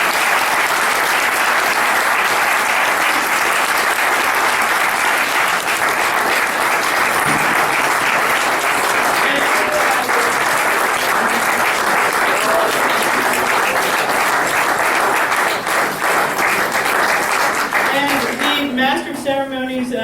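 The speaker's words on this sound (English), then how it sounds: "let's give them a round of applause and a thank you" Sustained applause from an audience at a ceremony fills the space loudly and evenly, with a faint murmur of voices beneath it before it thins out toward the end.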